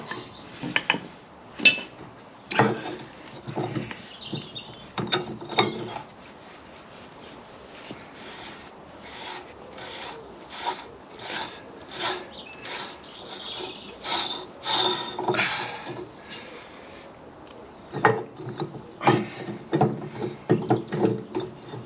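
Metal parts of a Victorian radial drilling machine scrape, rasp and clatter as a bevel gear is worked free, with intermittent grinding and rubbing bursts and short pauses across the stretch.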